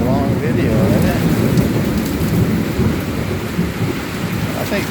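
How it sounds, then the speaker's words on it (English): Summer thunderstorm in Central Florida with heavy rain and hail: a dense, loud, continuous roar of rain pounding surfaces, with low thunder rumbling underneath throughout. "I think this is the first storm actually"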